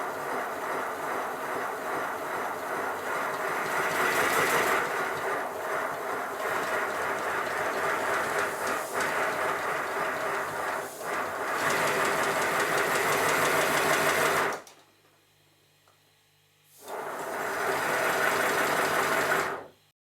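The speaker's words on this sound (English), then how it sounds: "Even though the centre crank pin is all over the place and there's a crack in one of the connecting rods, the engine seems to run okay." A Simplex steam locomotive engine with a wobbly centre crank pin and a cracked connecting rod runs with a rapid, steady knocking chuff, close and continuous, stopping briefly before starting again.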